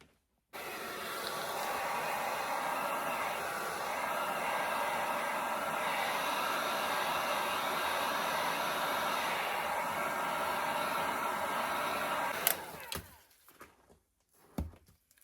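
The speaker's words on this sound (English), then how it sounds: "Hopefully, hit it with a heat gun." A heat gun blows on freshly poured geode-style resin coasters, a steady loud rushing hiss that holds for about twelve seconds before cutting off and leaving a few faint knocks.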